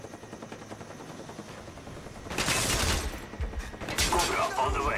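An attack helicopter roars in over a Call of Duty: Black Ops team deathmatch, its loud rotor and gunfire bursting in after a quieter stretch of distant battle noise, with brief voice chatter.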